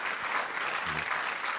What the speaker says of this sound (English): Round of applause to Uriel.